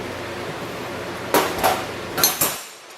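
Metal clanks and knocks from a pair of 1-1/16-inch wrenches breaking loose a pressure transmitter fitting, with four sharp close impacts in the middle of a steady background hum, then a quiet tail.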